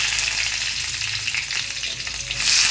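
Curry leaves and onion fry in hot oil in a pan, a loud, close, continuous sizzle with stirring scrapes, swelling brighter at the end.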